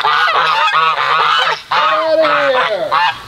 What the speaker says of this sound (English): Who do these geese think they are?